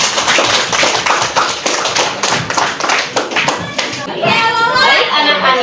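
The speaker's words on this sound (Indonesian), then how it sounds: "Tepuk tangan untuk Jara dan Yuanda" A classroom of students claps for two classmates, brisk overlapping hand claps and taps filling the room, with children's voices mixed in and the clapping tapering as chatter rises near the end.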